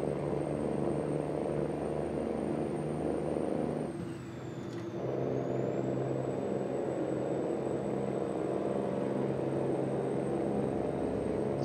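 A Peterbilt 389 truck with a Cummins N14 engine cruising in American Truck Simulator: a loud, steady engine drone at highway speed, briefly easing off near the middle before resuming its constant roar, with no talk.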